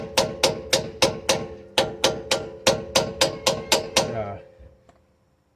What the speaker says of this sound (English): I needed to get my little hammer to just give it some taps.